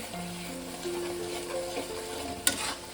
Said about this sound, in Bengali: এইভাবে কষিয়ে নেব। 3-4-5 মিনিট ধরে, মশলার যাতে কাঁচা গন্ধটা চলে যায়।